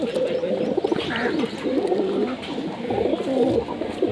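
Madrasi pigeons in a Kolkata loft coo steadily and close by, their low, rolling calls overlapping without a break.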